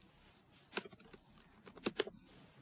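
Quiet bursts of keystrokes tap out a file name on a computer keyboard, an irregular run of clicks with a short pause between flurries, close and alone.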